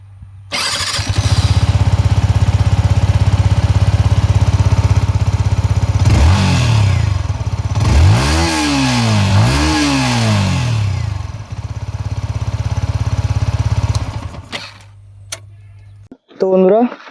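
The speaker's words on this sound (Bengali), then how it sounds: "এবার চলো তোমাদের আমি ইয়ামাহার এক্সস্টের সাউন্ডটা শুনিয়ে দিই।" A Yamaha XSR 155 motorcycle exhaust idles loud and close with a steady low rumble, then revs rise and fall in two or three sweeping throttle blips before settling back to idle and cutting off.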